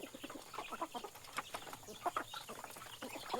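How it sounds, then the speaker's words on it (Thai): Backyard chickens on a rural Thai farm, including a speckled hen, cluck in short scattered bursts at moderate distance, with faint ambient noise and no talk. "ไก่ด่างตัวฮะ"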